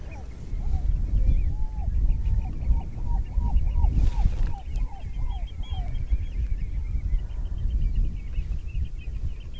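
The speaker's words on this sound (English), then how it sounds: "Lovely chorus of birds." Flock of geese and other shorebirds by the receding tide at Morecambe Bay, a steady run of repeated honks and calls carried over wind and outdoor rumble, fairly distant, with no talk.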